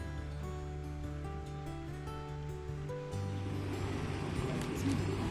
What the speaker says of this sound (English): A little waterfall that goes down.